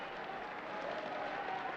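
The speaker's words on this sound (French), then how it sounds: "Et les applaudissements bien mérités." Crowd at a professional wrestling match applauds in a continuous, fairly faint wash of clapping heard from a distance, with no voices on top.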